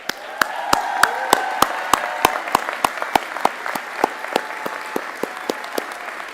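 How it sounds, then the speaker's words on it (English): Sparse individual claps from an audience at a commencement ceremony for a graduating class, a steady run of distinct hand claps over a soft murmur, moderately near. "I need a good round of applause for 5 seconds for this 24 class"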